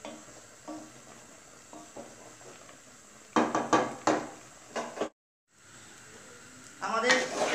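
Rice grains frying in a pot for chicken tehari are stirred with a utensil, giving soft scraping and sizzling with a few louder clattering strokes, close by, with a brief silent gap near the end.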